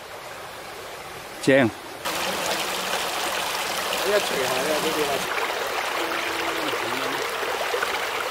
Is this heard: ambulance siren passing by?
no